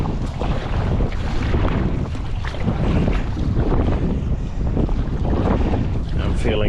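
Strong wind buffets the microphone while sea kayaking among rocks and waves, a loud, constant roaring rush with choppy water sloshing underneath and no break in the blowing.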